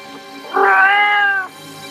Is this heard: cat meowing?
yes